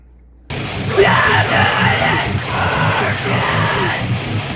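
Deathcore high screams are performed over a heavy, loud backing track: strained, raspy vocal bursts held over a couple of seconds each, starting abruptly after a brief silence.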